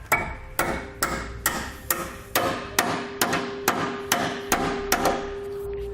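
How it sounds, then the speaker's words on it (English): A hammer strikes a metal alignment pin about a dozen times, flattening it against a 2018 Jeep base plate, in a steady rhythm, each blow sharp and ringing, close by with no talking. "take a hammer and we're going to hit it until it's nice and flat against the body here"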